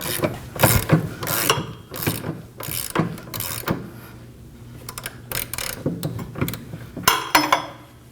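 A ratchet with a 19mm socket tightens a bolt while rear parking brake shoes are replaced on a 2011-2016 Kia Optima, giving repeated rapid clicking bursts in an uneven rhythm, close and clear with no speech.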